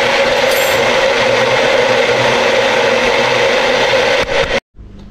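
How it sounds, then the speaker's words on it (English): A small blender whirs loudly and continuously for several seconds, then cuts off abruptly near the end. "And then I'll blend up a lot of things at the same."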